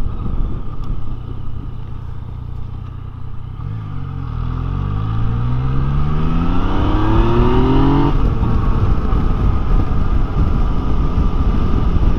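Yamaha Tracer 9 motorcycle engine cruising in sixth gear, a steady, continuous ride drone with a rising engine tone partway through, loud and close with no speech.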